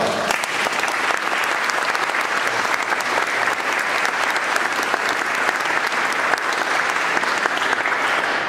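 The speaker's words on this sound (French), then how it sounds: "On peut encore les applaudir parce qu'ils sont formidables" An audience applauds performing artists at a French Union Picarde Commando Parachutiste event, producing dense, loud, sustained clapping that stays even throughout.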